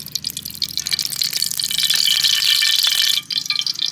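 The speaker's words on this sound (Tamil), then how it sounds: "அதுக்கு நம்ம தேவையான எண்ணெய் ஊற்றிக்கலாம்." Cooking oil poured into a pan for village-style egg thokku, a steady close liquid stream that swells to a continuous gush for about a second before stopping, with no talk.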